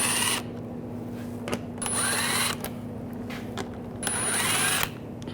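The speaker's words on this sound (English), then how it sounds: "Using a 7mm socket, take these screws out." Power tool whirring as it backs out screws from the radiator of a 2009–2017 Volkswagen Tiguan with a 7mm socket, three short bursts of near, steady high-pitched spinning separated by quiet pauses.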